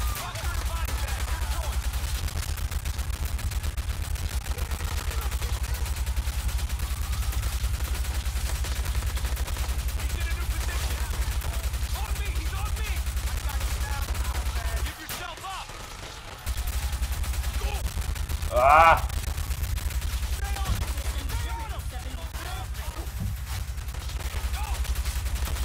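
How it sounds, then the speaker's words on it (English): Sustained gunfire from the video game Watch Dogs on PC, dense rattling bursts of shots running almost continuously, with a brief drop-out midway and faint talk in places. "Oh my god, I'm getting shot at."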